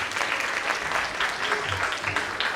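Steady applause from an audience at a global concerns summit, welcoming a speaker to the podium; dense, continuous clapping at moderate distance with faint low voices mixed in.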